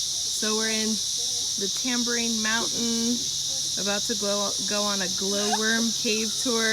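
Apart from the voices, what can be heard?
cicadas singing, Tambourine Mountain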